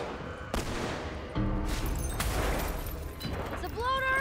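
Video game gunfire with sharp gunshots and bursts of rapid fire, some close and loud, plus booming impacts, mixed with talk and other game noises.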